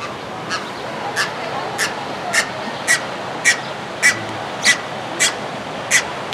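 Ducks and other waterfowl at a zoo give about ten evenly spaced quacks or honks over steady outdoor background noise, moderately near and distinct.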